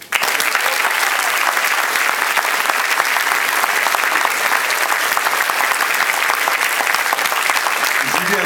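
Dense, even applause from a festival audience for a singer, loud and sustained from start to finish with no voices over it.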